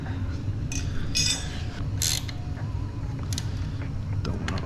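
Wrench snugging bolts on the heel guards of a Ducati Panigale V2 motorcycle, giving a few short metallic clicks and scrapes over a steady low background hum.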